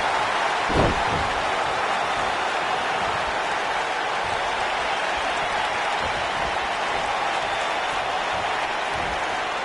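A broad, steady roar of a large wrestling video game crowd cheering and applauding, continuous and fairly loud without pauses.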